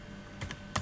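A few quiet, close keystrokes on a computer keyboard as a command is entered, two soft clicks then a sharper one, with nothing else around them.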